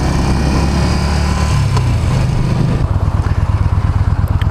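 2014 Yamaha Bolt R Spec motorcycle engine while riding, a loud, steady low rumble that drops into a slower, throbbing beat near the end.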